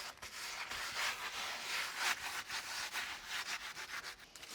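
Mortar is rubbed into stone on a fireplace, a gritty, scratchy scraping that repeats in uneven strokes, close and fairly quiet with no voices.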